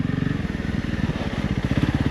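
A Honda CRF 300 Rally motorcycle engine labours steadily in first gear while climbing an off-road slope, a loud, close, continuous throbbing with a rapid firing pulse and no talk over it.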